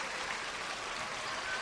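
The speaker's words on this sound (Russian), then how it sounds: "Ваши аплодисменты." An audience at a gymnastics gala applauds, a faint, even wash of many hands clapping in a large arena, heard from a distance.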